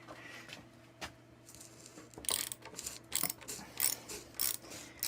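A ratchet wrench clicks rapidly in short bursts while loosening a half-inch nut from a pump piston shaft, close and clear after a quieter start.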